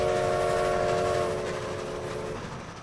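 A train rumbles past loudly with a broad roar and a sustained horn-like tone, gradually fading as it moves away.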